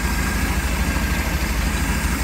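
A Mercruiser 4.3 V6 boat engine idles steadily with its timing fixed in base mode, a close, loud, even low rumble with a fast regular pulse and no voices.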